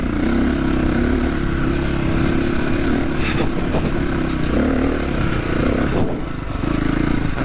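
SWM RS500R motorcycle engine droning steadily and loud throughout while riding over rough, rocky country ground, with faint clatter and scraping mixed in as the bike bounces over the terrain.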